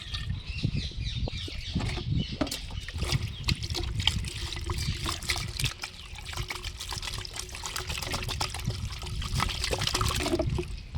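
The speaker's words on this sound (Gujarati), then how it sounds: "આ રીતે આપણે ગોળવાળું પાણી એડ કરી દીધું" Jaggery water is poured into a plastic barrel in a farm setting, producing a steady close trickle and splash with many small droplet clicks and a faint hollow resonance throughout.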